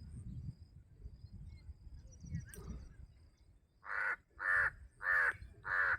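Four loud, harsh caws of a lone crow in a steady rhythm, close by, following a few seconds of low ambient rumble and faint insect chirping.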